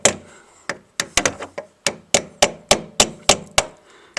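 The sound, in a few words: tapping a notch round with an old screwdriver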